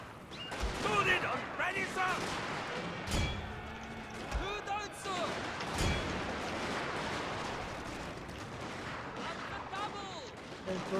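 Rifle fire from riflemen in a Shogun 2 Total War battle against bowmen: scattered sharp cracks and heavier thumps over a dense, rumbling battlefield din, with a voice talking over parts of it.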